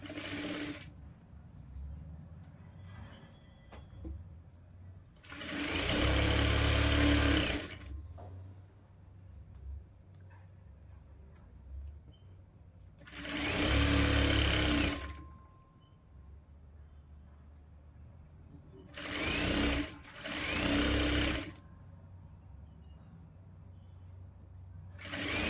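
A sewing machine stitching a lined blouse at the waist and back seams runs in four bursts, two long whirring runs and then two short ones close together, with quiet pauses between while the fabric is repositioned.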